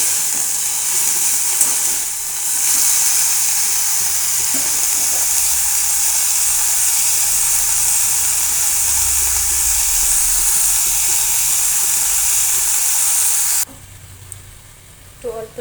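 Potatoes and broccoli tossed with turmeric and salt sizzle steadily under a covered pan, a dense, even hiss that holds for most of the span before cutting off abruptly near the end.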